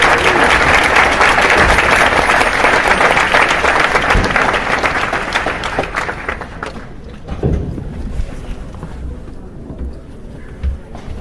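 Applause from a large conference audience welcoming a keynote speaker at a social justice teaching gathering, loud dense clapping that gradually fades and thins out over several seconds.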